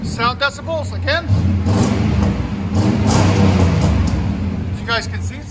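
V8 GMC Sierra 1500 pickup breathing through Magnaflow dual exhaust, held in a long rising rev over a deep rumble, with a person speaking briefly at the start and again near the end.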